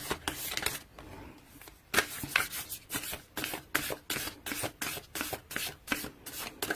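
A Whispers of Love Oracle card deck shuffled by hand, close and quiet, a rapid series of crisp riffling and flicking bursts in an uneven rhythm, with no one talking.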